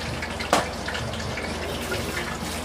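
Hands washed under a running kitchen tap while cooking Italian Sunday gravy, a steady close water flow with one brief louder splash near the start.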